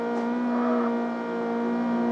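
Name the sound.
car engine revving with VTEC kicking in, CarX Street video game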